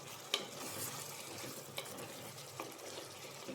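Beef liver with tomato being stirred in a pan, a soft steady sizzle with a few sharp scraping clicks of the spoon against the pan, fairly quiet and close.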